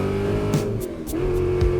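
A car accelerating hard on a narrow dirt road between steep embankments, its engine note climbing loudly through the gears with a few gear changes, close and continuous.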